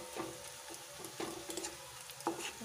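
Onions for chicken biryani frying in oil, with a soft, fairly quiet sizzle and occasional spatula scrapes and stirring taps at an irregular pace, nearby, with no voices.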